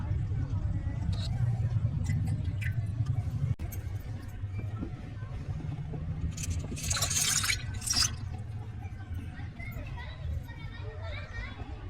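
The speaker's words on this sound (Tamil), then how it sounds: "அதுக்கு நம்ம ஒரு குண்டாவை எடுத்துக்கலாம், தண்ணி ஆட் பண்ணிக்கலாம்." Water is poured into a small cooking pot to cook pasta in a miniature kitchen. It makes a steady pouring and splashing sound that swells midway, heard under continuous talking.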